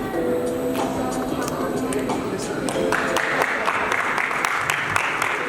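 Audience applause at a Lions club charter night celebration, a steady wash of many hands clapping throughout, with scattered louder claps standing out near the end.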